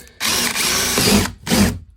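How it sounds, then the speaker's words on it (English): A power drill whirs in two bursts while drilling holes during slide-out repair on a 2013 Forest River Sunseeker RV, a long steady run followed by a brief pause and a shorter second run, close and loud. "When in doubt, just keep drilling more holes."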